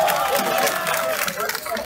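Crowd at a Paris street march cheers and applauds continuously, a dense wash of clapping and voices at close range with a speaker's voice mixed in.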